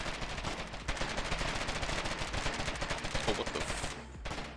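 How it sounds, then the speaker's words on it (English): Rapid gunfire from a war video game crackles in dense, continuous bursts, loud and close, filling the whole stretch while a man briefly exclaims over it. "Did I just get shot from behind?"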